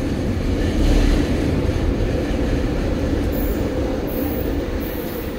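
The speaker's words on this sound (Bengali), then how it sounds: "3 মিনিটে আমাদের ট্রেনটা আসবে।" Vancouver SkyTrain arriving at the Production Way–University station platform on an overcast day, a loud, steady rolling rumble of rail cars close by with brief high squeals near the end, no talk.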